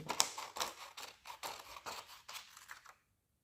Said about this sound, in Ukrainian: Беремо ножиці, згадуємо, як ми ними працюємо, і починаємо нарізати смужки.